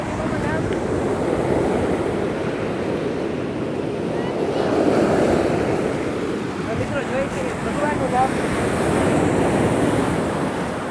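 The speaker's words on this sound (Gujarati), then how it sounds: "આ મોજું ક્યાં આવે છે આ મોજું આવ્યું" Sea waves wash onto the shore, a broad rolling surge that swells and recedes in two or three pulses, mixed with wind buffeting the microphone and faint voices in the background.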